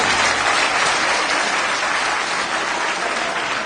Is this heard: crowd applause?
yes